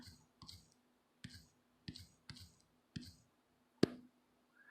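About seven sharp, separate clicks from taps on an Android phone while a key is typed into an app, spaced unevenly and close up in near silence.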